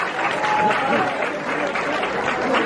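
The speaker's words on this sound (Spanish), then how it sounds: "Un aplauso para mi Fortu" A crowd in the Sala Galileo concert hall applauds steadily, dense clapping mixed with cheering and crowd voices at an even, fairly loud level.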